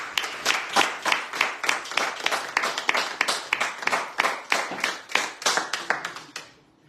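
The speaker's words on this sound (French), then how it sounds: "on peut les applaudir" A small group claps in an irregular rapid patter for several seconds on a live radio show, close and fairly loud, then stops abruptly.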